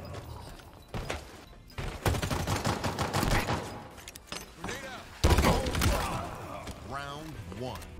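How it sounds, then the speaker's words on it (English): Spartan machine gun in the Halo Infinite video game, firing close-up in rapid bursts and sustained rattling volleys with heavy impact thuds. Game voices and other effects mix in among the shots. "I will say that the Spartan machine gun is still amazing."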